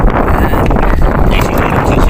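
Strong sea wind buffets the microphone beside a small fishing boat on choppy water, a continuous loud roaring rumble with gusts.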